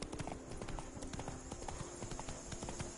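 Hooves of the horse Roach pound in a steady, rapid galloping clip-clop in The Witcher 3, loud and continuous under a constant bed of game ambience and music.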